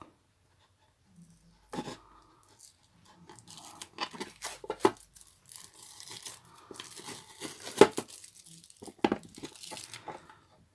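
Crinkly tearing and peeling of a sticker or tape from a vintage item, a series of close, irregular rips and crackles with scattered sharp snaps, starting sparse and growing busier.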